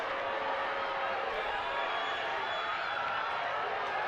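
Lively crowd at a Saldanha rugby match against Gardens: a steady, distant wash of crowd noise runs unbroken, fairly faint, with no distinct claps or cheers standing out.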